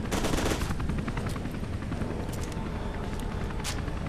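Dense, sustained automatic gunfire from the shooter game FEAR 2 Project Origin roars continuously, loud and close, with distinct shot bursts rising out of a constant booming wash. No voices are heard.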